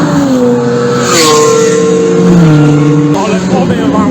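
A VW Golf 4 VR6 race car enters the Mettet circuit in Belgium for a time attack, its engine droning steadily in the cabin with rising and falling pitch as it pulls away, while someone talks over it throughout.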